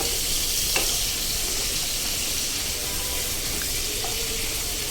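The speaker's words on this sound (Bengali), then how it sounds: "টমেটোটা তেলের মধ্যে ভালো করে ভেজে নেব আমি" Tomato frying in oil in a pan while making mustard-paste tilapia curry, giving a steady, loud, continuous sizzle with a few faint clinks and no talk.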